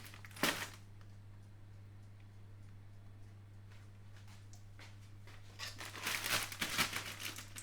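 A Tesco frozen soup mix plastic packet is handled and torn open, with a sharp crinkle early on, then quiet with faint ticks, and a burst of louder rustling and crackling near the end over a low steady hum.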